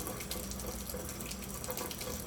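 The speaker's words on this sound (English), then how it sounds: "you just have the water on, nice and warm" Warm water runs steadily from a kitchen tap into a sink while sausage casings are rinsed, a continuous close splashing hiss with no talk.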